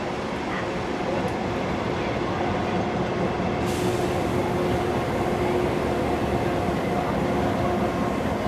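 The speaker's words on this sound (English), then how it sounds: "Here the engine will now pull into Maitland since it was using the dedicated freight line." Steam locomotive 3526 pulls into Maitland off a dedicated freight line during the Hunter Valley Steamfest, a loud continuous rumble and roar of the engine and train that holds steady, with a sharper hiss entering partway through.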